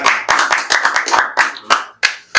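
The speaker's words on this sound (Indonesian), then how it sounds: "Tepuk tangan." Scattered hand claps ring out to welcome a guest at a scouting event in Banyumas, coming as a rapid string of sharp, separate claps from a small group with short pauses near the end.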